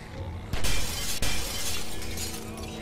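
Glass shatters in The Walking Dead video game, two loud crashing breaks about half a second apart, followed by a noisy scattering of debris. There is no speech.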